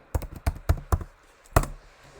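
Several sharp keystrokes on a computer keyboard, tapped in an uneven rhythm with short pauses, close and fairly clear, typed with a splinted little finger.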